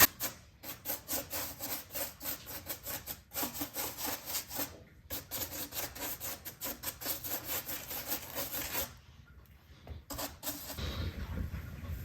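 Paintbrush dry-brushing paint onto a surface, a rhythmic series of close scratchy bristle strokes with brief pauses between bursts, alone with no talking.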